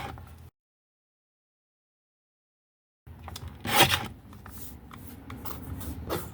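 Card paper being cut to size for a handmade fun-fold graduation card: a short silence, then soft, close rustling and scraping with a brief louder swish partway through.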